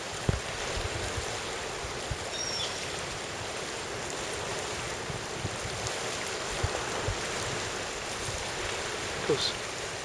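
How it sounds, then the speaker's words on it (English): Tidal water rushes out of a marina in a constant, broad roar, close and unbroken, with faint wind noise over it. "Amazing the amount of water that's going through here."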